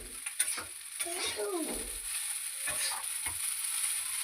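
Rice pasta sizzling and frying in an old wok, with steady close hiss and intermittent scraping stirs throughout.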